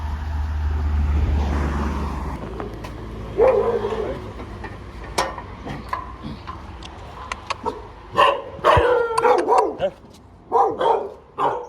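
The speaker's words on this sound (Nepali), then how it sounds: "कुकुरहरू" Several dogs bark in sharp, repeated bursts, loud and close, following an engine rumble at the start.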